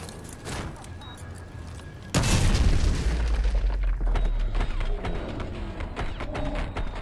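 Breaching explosion in Call of Duty: Modern Warfare 2 Campaign Remastered: after quieter gunfire and movement, a sudden loud close boom hits, followed by a long deep rumble, debris and scattered shots.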